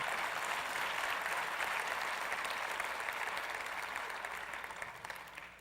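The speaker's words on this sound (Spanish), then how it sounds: "Dale fuerte el aplauso a Dios." A congregation at a church service applauds steadily and loudly for several seconds, a dense wash of clapping that tapers off slightly toward the end.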